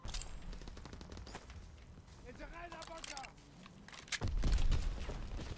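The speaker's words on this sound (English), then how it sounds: "Boom, nade kill, boy." Grenade blast in the Call of Duty: WW2 shooter, a heavy low boom near the end following scattered gunfire, with a voice talking during the clip.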